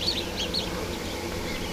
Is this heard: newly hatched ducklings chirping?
yes